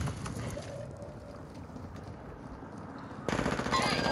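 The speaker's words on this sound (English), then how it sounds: "You are taking effective fire" Gunfire in the Call of Duty DMZ game mode, a rapid burst of automatic shots at the start, quieter stretch in the middle, then another dense loud burst toward the end.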